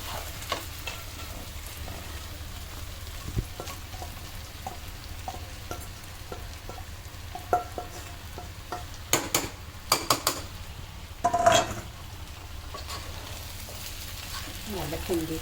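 Vegetables tossed with masala in a pan, a soft sizzle under repeated light scrapes and utensil taps, with a cluster of louder metallic knocks near the end.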